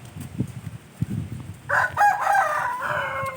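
Low, muffled rustling and clucks give way to a single rooster's crow, loud and drawn out over the last couple of seconds.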